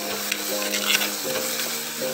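Spice powders and salt sautéing in a pan for tomato curry, giving a continuous close sizzle with repeated scraping stirs throughout.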